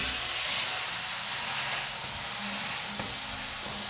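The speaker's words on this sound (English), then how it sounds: "we're going to place it into our hot pan. We're going to do it the skin side, the fat side" Fatty meat set skin side down in a hot pan gives a steady, loud broadband sizzle and hiss that holds throughout without pause, with no voice over it.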